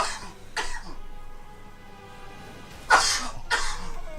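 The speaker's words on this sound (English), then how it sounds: "I'm about to go in a coughing fit." A person breaks into a coughing fit while playing Darksiders, giving a few harsh, close coughs and throat-clearing bursts spaced apart, with quiet game sound underneath.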